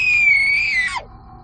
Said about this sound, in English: I could only scream.